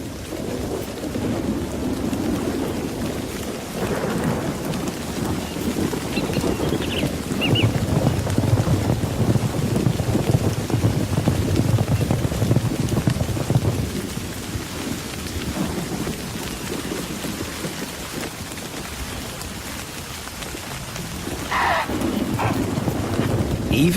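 Heavy rain pours steadily while low rumbles of thunder roll through, loud and close, continuing without pause, from a thunderstorm breaking overhead in wild dog country.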